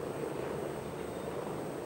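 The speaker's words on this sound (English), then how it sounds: "there's the other medical helicopter" A medical helicopter passing overhead at a motor race, a faint, steady rotor and engine rumble that holds evenly and alone throughout.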